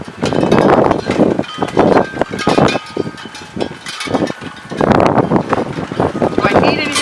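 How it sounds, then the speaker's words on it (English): Strong gusts of wind buffet the microphone in surging waves on a blustery outdoor day, loud and rumbling with brief lulls between bursts. "The original blustery day."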